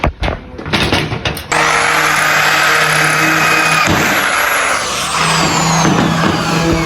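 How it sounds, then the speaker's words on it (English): A drill whines steadily and loudly at close range, boring holes in a small metal L bracket after a few brief bursts, holding a high drone for several seconds before a slight dip. "Now we've got to drill the hole for it."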